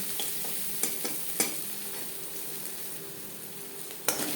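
Onions frying in a pan for lal shak bhaja, a steady close sizzle running throughout with a few sharp clinks of a spatula stirring against the pan.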